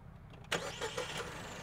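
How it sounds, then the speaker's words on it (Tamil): A Toyota Taisor compact SUV engine cranks briefly, then catches and fires up with a sudden burst, settling into a steady mid-pitched running sound. "இப்போ இதை ஸ்டார்ட் பண்ணி இன்ஜின் எப்படி ரவ் ஆகுது அப்படிங்கிறத நம்ம பார்க்கலாம்"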